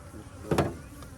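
Honey bees buzz around a beehive in a brief, fairly faint swell of droning hum that peaks and fades within about a second.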